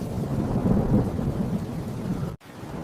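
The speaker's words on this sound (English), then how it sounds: "That's a lot of rain. It's getting worse." Heavy rain pours down in a dense, constant roar, with deep thundery rumbling mixed in. It holds steady and loud until it drops out abruptly near the end, then resumes.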